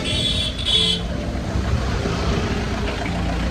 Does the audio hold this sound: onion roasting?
no